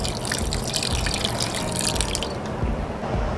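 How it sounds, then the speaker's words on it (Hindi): Water poured from a cup into cooking chicken for shami kabab, a steady close splashing and trickling pour that runs the full length and eases slightly near the end. "तो अब इसमें 1 कप पानी का ऐड कर देंगे।"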